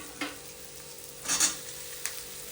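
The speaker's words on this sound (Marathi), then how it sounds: "सोयाबीनला चांगलं मिक्स करू द्यायचं" Soybeans frying and being stirred in a pan, a soft continuous sizzle broken by a few short scraping strokes of the spoon, close up with no voices.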